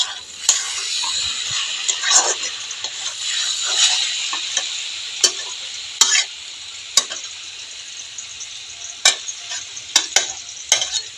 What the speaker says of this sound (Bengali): মাছগুলো ভেজে নিচ্ছি, আর বাঁধাকপিটাও বসিয়ে দিয়েছি